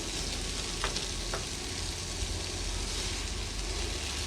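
Cooked veg chowmein noodles fry in oil over a high flame, a steady close sizzle with a couple of sharp tossing scrapes in the wok, no speech.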